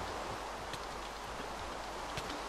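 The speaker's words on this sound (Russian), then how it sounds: "Я люблю дождь, но реально тут он просто очень шумит, и это фигово слышно." Steady rain weather in the Minecraft Pixelmon Pokémon mod, a continuous dense hiss of falling rain with faint pattering, heard alone without speech.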